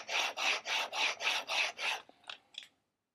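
A woodworking chisel is rubbed back and forth on a sharpening system, giving seven regular rasping strokes, then a couple of lighter scrapes before it stops; close and alone.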